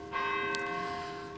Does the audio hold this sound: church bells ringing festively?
yes